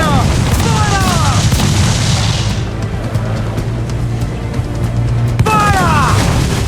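Ship cannons firing in the Assassin's Creed IV Black Flag video game: heavy, booming blasts with rumbling low-end weight, one burst early and another near the end, over constant sea and battle noise.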